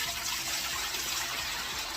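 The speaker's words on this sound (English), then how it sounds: "just gonna fill it enough to where I have a couple of inches of water over my jars" Tap water gushes steadily into a water bath canner, filling it for preserving watermelon rinds, a continuous bright splashing pour with no voices.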